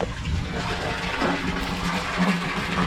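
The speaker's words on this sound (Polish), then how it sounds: "Woda idzie tędy." Water rushes steadily through a pipe down to a water reservoir on a farm during a drought, a continuous close gushing and gurgling with no voices.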